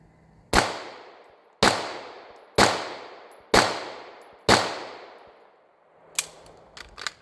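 Five sharp, loud pistol shots of hollow point test ammunition ring out at a steady pace about a second apart, each with a decaying echo, followed by faint clinks and handling noises.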